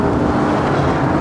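An Audi RS6 accelerating in the Assetto Corsa VR racing game, its engine a steady, loud drone filling the whole stretch without a break.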